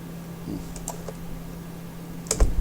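Computer keyboard shortcut keys pressed while working in After Effects, a few sparse, light clicks scattered across a quiet room hum, ending with a slightly louder tap.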